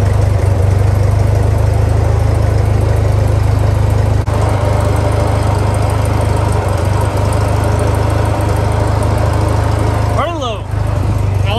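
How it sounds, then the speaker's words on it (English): Tractor engine running at a steady, loud idle close by, a constant rumbling drone throughout with a brief change near the end. "then we should be able to start the tractor up"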